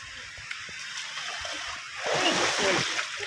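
Water splashes and sloshes loudly for about a second during a large outdoor group baptism in Njombe, rising over a steady wash of moving water, with voices nearby.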